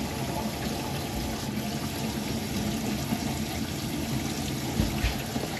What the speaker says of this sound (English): So I'm going to turn the faucet on for the first time.